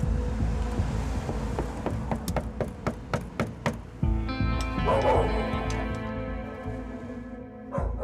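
Two large dogs barking repeatedly in a rhythmic run of loud, close barks, then a steadier stretch with some whimpering and a faint tapping underneath.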